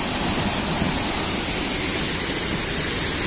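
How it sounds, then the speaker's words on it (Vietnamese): The Hang Doi waterfall in Kbang, Gia Lai, roars as a loud, steady, broadband rush of falling water. The close, unbroken wash carries on alone for the whole stretch. "Wow, thác Hàng Dơi."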